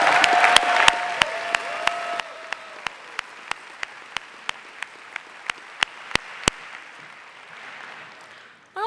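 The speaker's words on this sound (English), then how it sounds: "Can we give them a round of applause?" Audience applause at a 2023 Ithaca College commencement ceremony, a dense wash of clapping from a large crowd with a few sharp, regular percussive knocks over it, gradually thinning before a brief sound at the end.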